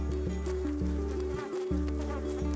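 Bees buzz close by with overlapping droning hums that rise and fall in pitch, a continuous insect whirr with no talking.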